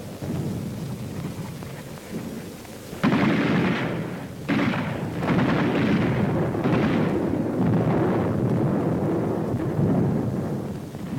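Heavy WWII mortar and artillery fire near Mount Lungo during the battle for San Pietro, with a series of loud, booming blasts and rumbling impacts, some close and sharp, layered over continuous low battlefield roar.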